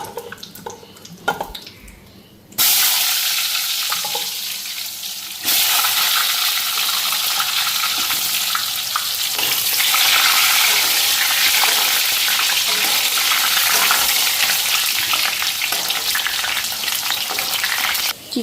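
Potatoes go into hot oil in a wok. After a few quiet knocks, a sudden loud, dense sizzle erupts and swells even louder, then roars steadily and close with faint stirring clinks throughout.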